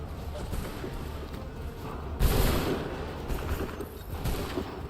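Musket volley fire in Assassin's Creed 3, a dense crackling burst of shots erupting at once over ongoing battle noise and voices, then trailing into scattered reports.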